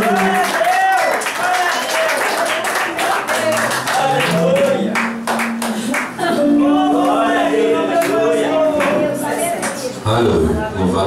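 Congregation clapping hands in praise during a church hymn service, a steady rhythmic patter of many hands mixed with singing and voices throughout.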